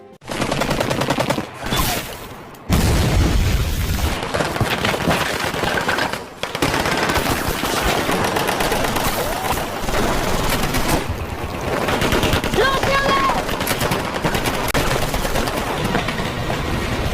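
Sustained bursts of rapid machine-gun fire from Soviet troops in a World War II battle, overlapping shots, loud and dense, broken by a few brief pauses.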